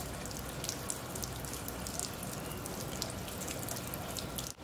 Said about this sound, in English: I'm going to tip the board upright and drain all the water out of the engine compartment.